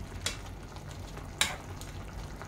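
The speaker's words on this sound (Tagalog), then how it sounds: "Bali, ihalo ko na lang dito para para maluto na din sabay." Shrimp are stirred into a simmering coconut-milk vegetable stew in a pan, a soft steady sizzle broken by two brief scraping clinks of the utensil against the pan, with no talking.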